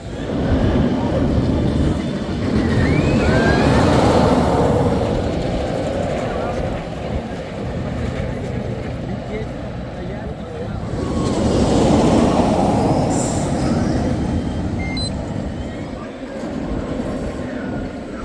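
An RMC roller coaster train at Walibi Holland roars past the queue line in two loud passing swells with rumbling and rattling, the second rush arriving about ten seconds after the first.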